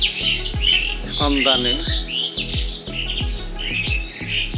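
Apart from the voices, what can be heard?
mynas, sparrows and crows chirping together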